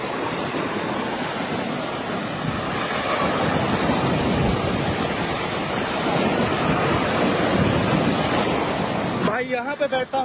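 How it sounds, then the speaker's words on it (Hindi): Strong sea waves crash and surge onto an island beach among big rocks, a loud continuous roar with wind buffeting the microphone, ending in a brief burst of handling noise. "तेज लहरें भाई समंदर की"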